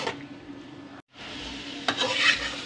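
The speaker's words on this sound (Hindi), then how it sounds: "सिरका जो है 1 टेबल स्पून मैं इसमें ऐड करूँगा, और इस सब को मैं फ्राई करूँगा।" Chicken pieces fry with a tablespoon of vinegar in a pan for Chicken Manchurian, giving a steady close sizzle with stirring scrapes. A brief gap interrupts it before the sizzle returns slightly louder.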